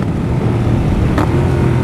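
Yamaha MT-07 motorcycle from 2018, its engine droning loudly and steadily while being ridden, close up with wind noise and an unbroken low rumble.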